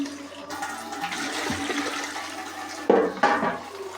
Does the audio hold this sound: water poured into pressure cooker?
yes